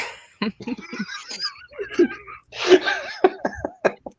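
A sharp sneeze erupts amid laughter and excited chatter, with giggles continuing around it.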